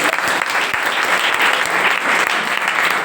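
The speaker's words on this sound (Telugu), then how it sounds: "పిల్లలకి ఇంకొకసారి గట్టిగా క్లాప్స్ కొడదాం" Sustained applause from an audience at a Christmas Eve gathering, clapping for a children's skit, dense and even for the full stretch with no talk over it.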